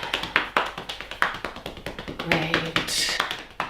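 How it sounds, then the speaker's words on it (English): Hands clap against leg muscles in a rhythm class, a quick series of sharp slapping pats, close and fairly loud, with a brief spoken word partway through. "So I did a clap there, and I'm going to give it another clap."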